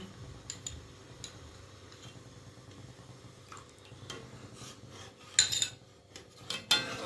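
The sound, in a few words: stirring cornflour slurry into orange juice in a pan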